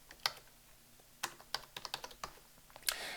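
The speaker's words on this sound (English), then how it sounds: "We're going to type in the assignment's title" Someone types on a computer keyboard, a quiet, irregular run of close key clicks with short pauses between bursts.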